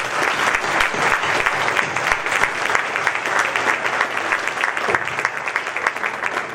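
A crowd of parents, coaches and administrators applauds at a senior athletic breakfast, dense steady clapping filling the room for several seconds without pause.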